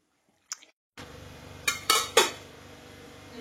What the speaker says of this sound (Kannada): ನಾವೀಗ ನೀರುಳ್ಳಿ ಮತ್ತೆ ಟೊಮೆಟೊ ಅನ್ನು ಕಟ್ ಮಾಡ್ತಿದ್ದೇವೆ.